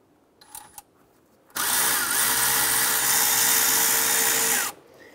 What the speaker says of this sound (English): I'll go ahead and remove this nut here.